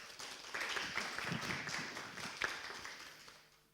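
An audience applauding at a panel on ethnic-racial diversity in cultural institutions, a fairly faint and sparse patter of claps that swells briefly and then fades out over nearly four seconds.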